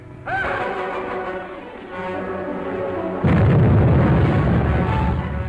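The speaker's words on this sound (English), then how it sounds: "Another explosion." Hand grenade explosions in a 1937 jungle film, a muffled boom followed by a heavier, louder blast with rumbling low end.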